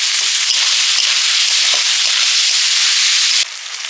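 Shrimp and onion fry in a pan with a dense, close crackling sizzle that holds steady, then drops abruptly to a softer hiss near the end.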